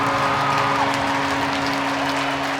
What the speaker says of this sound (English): His first of the season brings the home crowd to its feet.